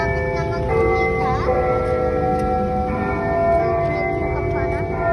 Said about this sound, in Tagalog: Kampana.